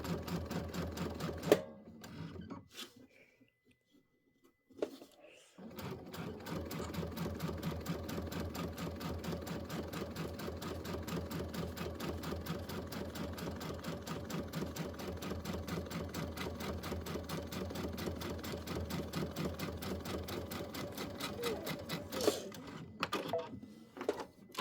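Sewing machine stitching a quilt seam for a Christmas project, a steady rapid run of stitches lasting about twenty seconds after a short pause, at moderate level.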